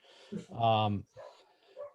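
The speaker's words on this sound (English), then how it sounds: "I hope you don't hear my dogs barking behind me" A dog gives a single loud, drawn-out bark-whine close by, with short softer yips and whimpers before and after it, behind someone on a finance committee video call.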